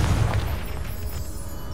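A Confringo spell blast in Hogwarts Legacy, a single deep, booming burst at the start that trails off into a low rumbling tail.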